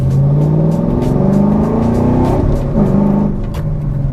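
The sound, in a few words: fast car accelerating aggressively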